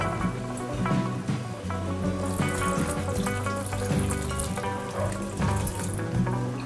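Broth poured into a cooking pot, a continuous splashing and trickling stream with faint sizzling underneath, steady and close for several seconds.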